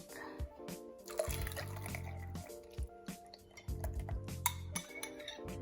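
Egg and milk custard for an eggnog croissant bread pudding being stirred in a bowl, with wet sloshing and repeated clinks of a utensil against the dish, fairly close, with no talking.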